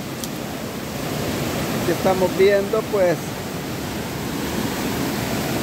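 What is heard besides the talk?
swollen river rushing water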